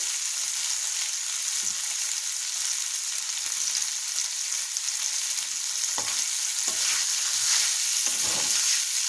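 Chicken frying in a pan, a steady broadband sizzle filling the whole stretch, with a few soft stirring scrapes and knocks, loud and close with no talking.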